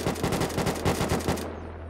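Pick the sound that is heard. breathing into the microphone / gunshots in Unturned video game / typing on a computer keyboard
gunshots in Unturned video game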